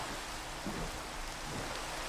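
Rain falls in the Minecraft video game, a faint, steady hiss of drops that continues without a break and with no voices over it.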